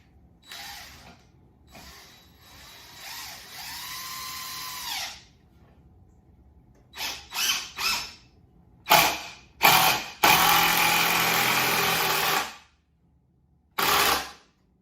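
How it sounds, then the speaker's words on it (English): A power drill drives screws into the wooden legs of a balance beam, giving several loud bursts of whirring that rise and stop, with one long run near the end, close up and with no talk. "actually drill my screws in and put in 2 on each of your foundational legs"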